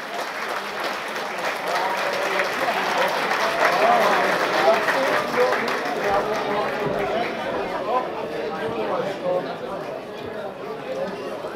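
Crowd applause after an amateur boxing bout in a gym, sustained clapping and cheering at steady loudness throughout, with chatter mixed in.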